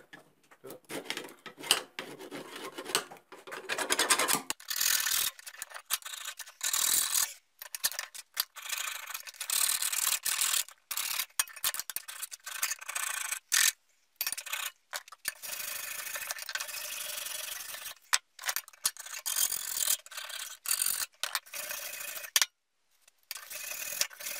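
Scraping, rasping and rubbing of a screwdriver working against wood and metal, close by, in uneven bursts with short pauses.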